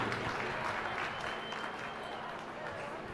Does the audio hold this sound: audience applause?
yes